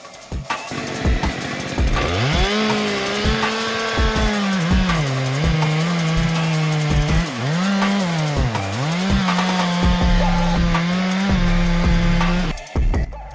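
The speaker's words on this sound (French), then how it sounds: "on va faire la découpe de l'arbre" A chainsaw cuts through a tree stump during stump removal, its engine droning loud and steady for about ten seconds with pitch dips as the chain bites into the wood, no talk over it.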